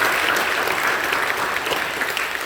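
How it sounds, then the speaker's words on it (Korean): A church congregation claps together during a special dawn prayer service in Holy Week, steady dense applause filling the room for a short stretch with no voices over it. "박수로 보내주시고"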